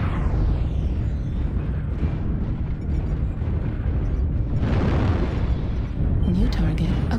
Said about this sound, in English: Artillery strike online.